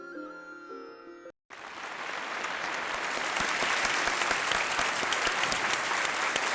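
A television quiz-show studio audience bursts into loud, sustained clapping after a brief musical sting and a moment of silence, the applause swelling and holding steady to the end.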